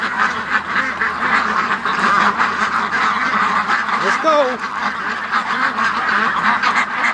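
Young ducks quack repeatedly around a barn pen, with loud, busy calls over a person who speaks briefly and urges them along.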